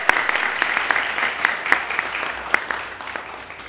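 Steady applause from a crowd at a food hall press conference, dense clapping with a few sharper claps standing out, continuing throughout without pause.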